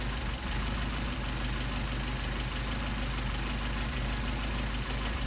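A Mercedes 190SL engine with Solex carburetors idles steadily and evenly, a continuous low rumble heard close up for the whole stretch with no talking.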